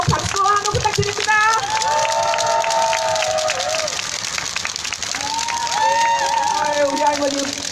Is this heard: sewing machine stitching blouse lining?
no